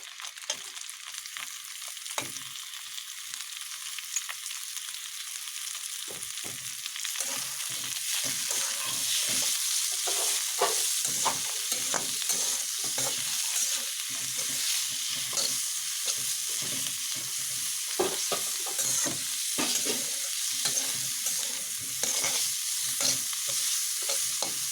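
Mustard greens frying and being stirred with hilsa fish in a pan, a steady loud sizzle with frequent scraping stir strokes throughout, no voices.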